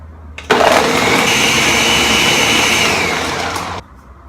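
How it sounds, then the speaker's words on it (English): A blender whirs loudly for about three seconds, a dense grinding roar that starts abruptly and cuts off, alone with no talking. "So put it into your blender."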